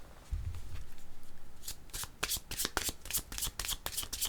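Tarot cards are shuffled close by, a soft thump followed by a crisp run of rapid riffling flicks that carries to the end.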